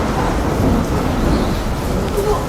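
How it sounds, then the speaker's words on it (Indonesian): Strong tornado-force wind storm battering the Bekasi coast, a dense, steady roar of gusting wind with rain-like hiss, loud and continuous throughout without a break. "Coba, anginnya kenceng banget."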